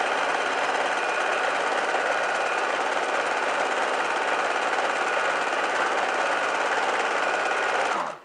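A sewing machine stitches a cushion cover, running a lace trim into the seam, with a steady, fast, close mechanical whir held unbroken for about eight seconds before stopping abruptly.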